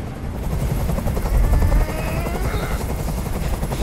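A helicopter in the video game Detroit: Become Human, its rotor thumping in a steady low pulse with engine whine above, loud and close throughout with no talk.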